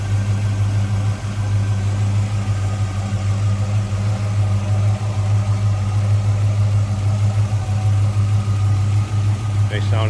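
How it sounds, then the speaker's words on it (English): The V8 of a 1965 Oldsmobile Cutlass convertible idles with a steady, even low rumble, fitted with a newer alternator, running unchanged from start to finish with a faint clink near the end. "Nice sounding V8."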